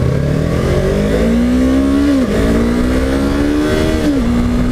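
A 2015 Yamaha R3 300 cc motorcycle engine pulling hard under acceleration, a loud, close, rising whine that drops sharply at two gear shifts and then climbs again.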